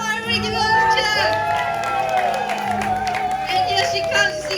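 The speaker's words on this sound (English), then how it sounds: "Jati, come on, everybody give her a cheer!" Crowd at the Singapore Zoo cheering for the Asian elephant Jati, a steady loud wash of whoops and applause with voices mixed throughout.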